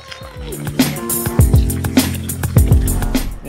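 A cocktail shaker is shaken hard to mix an apple pie margarita, ice and liquid rattling in quick rhythmic bursts, close and fairly loud, with no one talking.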